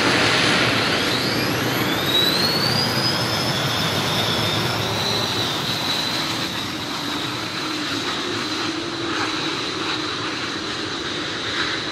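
A large aircraft powered by three 1900-horsepower engines passes with a loud, sustained engine roar and a rising whine, the roar gradually easing but still present.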